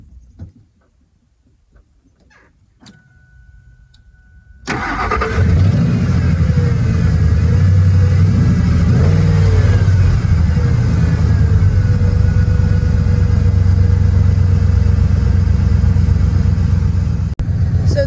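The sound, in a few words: Ford F150 4.6 engine starting and revving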